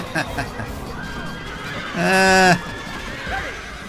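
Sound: horses neighing in video game Rome: Total War

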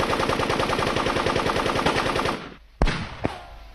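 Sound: gunfire from guns in a film

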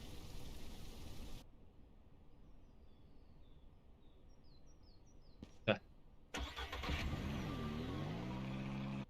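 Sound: vehicle engine driving in Ranch Simulator video game

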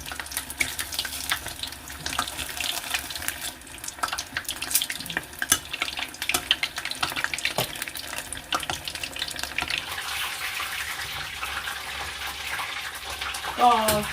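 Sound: fish frying in hot oil for fish and chips

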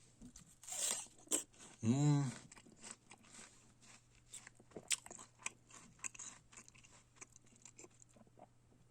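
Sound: biting and chewing a crunchy, juicy winter pear

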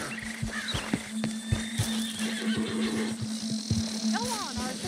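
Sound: horse in the video game Red Dead Redemption 2

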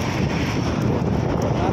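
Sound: strong wind blowing into microphone

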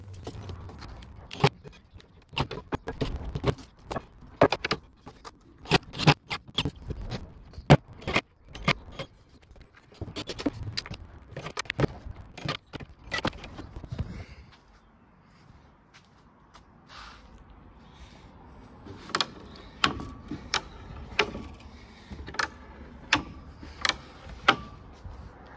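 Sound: folding camper van table legs locking and folding

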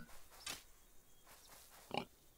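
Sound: pig oinking in video game Stoneshard

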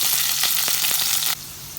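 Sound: chopped ginger and garlic sizzling in oil

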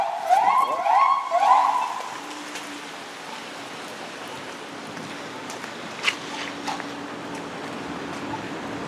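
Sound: police car siren at night in Toronto

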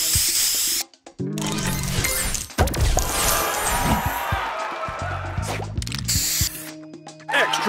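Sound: spray booster effect in Match Masters video game

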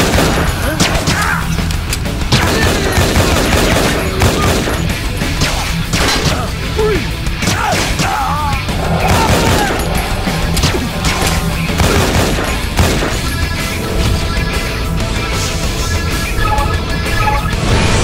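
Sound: gunfire in a video game (Infernal)

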